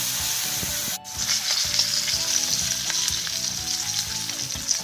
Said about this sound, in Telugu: ఇవి ఎర్రగా అయ్యేదాకా వేయించుకోవాలి